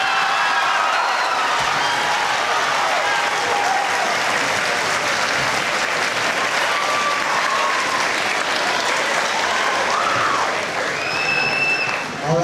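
Sustained, loud applause from a high school audience at a Decision Day keynote in Clewiston, Florida, a dense steady wash of clapping with occasional whoops and cheers rising above it, holding for about twelve seconds before briefly dipping near the end.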